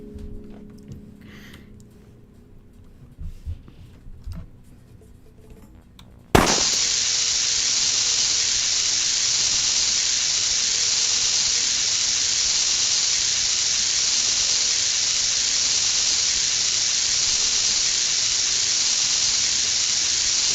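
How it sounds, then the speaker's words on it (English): A lit wick in a video game burns for several seconds of quiet, then bursts into a sudden loud explosion that gives way to a steady, harsh hiss holding to the end, with no talk over it. "The wick will explode after about 27 seconds."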